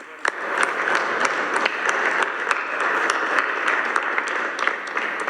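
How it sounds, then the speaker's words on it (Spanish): An audience at a government press conference at Palacio Nacional gives steady applause for the governors, with dense clapping and a few sharper individual claps throughout. "Sí, un aplauso a los gobernadores porque nos han ayudado."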